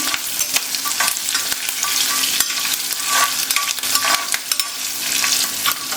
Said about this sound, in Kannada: ಎಣ್ಣೆ ಹಾಕಿದ ತಕ್ಷಣ ಸಿಡಿದ್ಬಿಡುತ್ತೆ ಮೆಣಸಿನ್ಕಾಯಿ